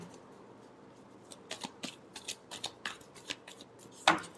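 A deck of tarot cards is shuffled close by, with quiet riffling and a series of soft, papery slaps in an uneven rhythm, ending in a sharper snap of cards.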